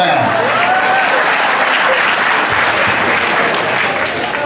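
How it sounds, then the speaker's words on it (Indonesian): A crowd at an Indonesian religious talk breaks into sustained, loud applause that stays dense and steady throughout, with a voice rising briefly over the clapping near the start. "Tuh, tepuk tangan."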